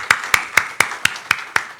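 A congregation at a church founding service in Korea claps in unison, eight crisp, evenly spaced claps in a brisk steady rhythm, close and loud with no voices.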